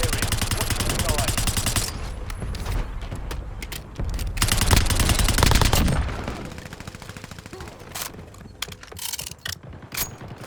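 Rapid automatic gunfire from a video game shooter rattles loudly in long bursts, then breaks into scattered single shots and short volleys, with brief talk in between.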